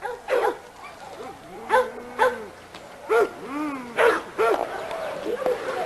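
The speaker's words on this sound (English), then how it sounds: "this is a dog called Hooten's Headhunter." A chained dog in an outdoor dog yard barks loudly and repeatedly, with short yips and whimpering whines between the irregular bursts of barking.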